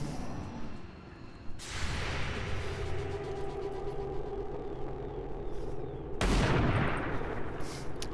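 Gunfire in the tactical shooter XCOM 2: a burst of rapid shots sets off a sustained crackling barrage, then a second heavier, louder volley of blasts near the end, all close and dense.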